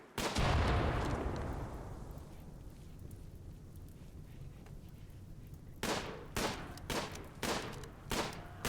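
Rimworld game combat: a loud blast fades into rumble, then after a quiet stretch a series of five sharp gunshots or bursts rings out in a steady, uneven rhythm, all without speech.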